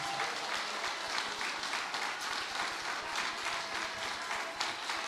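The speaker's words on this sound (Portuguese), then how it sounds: "Você pode dar uma linda salva de palmas para Jesus?" A church congregation applauds for Jesus, a steady wash of many hands clapping at once, fairly distant and even, filling the space with no pause.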